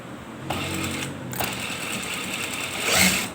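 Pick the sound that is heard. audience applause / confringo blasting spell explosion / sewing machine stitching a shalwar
sewing machine stitching a shalwar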